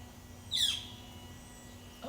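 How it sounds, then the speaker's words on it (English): A woodpecker calls once with a single sharp, high note close by in a backyard garden beside a stream, against a quiet steady background hum. "It might be a woodpecker."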